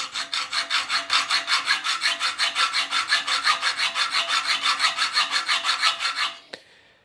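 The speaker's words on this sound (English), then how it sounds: "I think the hacksaw is going to be the more precision way of doing it." Metal being cut with a hand hacksaw in a workshop: a steady run of about thirty quick, even back-and-forth rasping strokes, close and loud, ending with a single light knock and no talking.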